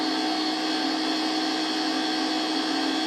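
A homemade magnetic motor generator rotor spins at very high speed, giving a steady, loud, unbroken whine with a droning hum, close by and alone.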